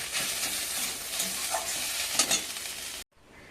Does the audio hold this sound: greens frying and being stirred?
yes